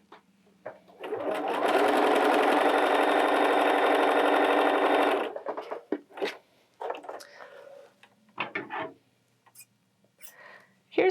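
A Bernina 325/335 sewing machine runs a moderate zigzag stitch in one continuous close whir lasting about four seconds, then stops, followed by soft handling clicks and brief quiet speech.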